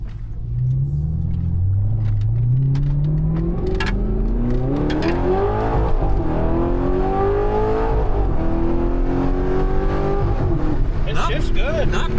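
An Audi R8 with a paddle-shift gearbox accelerates hard on a road, its engine note climbing steadily through the gears with loud, continuous rumble, while people talk over it inside the car.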